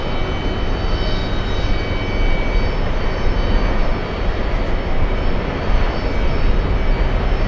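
Emirates flight 201, a jet airliner taxiing to its gate at JFK, produces a steady, loud, broadband engine roar with a faint high whine, continuous and unchanging throughout.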